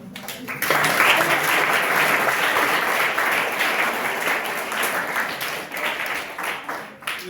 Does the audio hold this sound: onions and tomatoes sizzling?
no